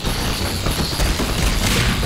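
Rapid gunfire from a firefight in the video game Half-Life 2, a dense, loud burst of shots and booms sustained across the whole span with no talk over it.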